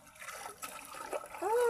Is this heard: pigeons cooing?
no